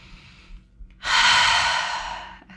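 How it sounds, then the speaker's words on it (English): A single long, full breath in and out during a glutes and hamstrings workout, a close, breathy rush that swells suddenly and fades over about a second and a half, with near silence around it. "take a full breath in and out."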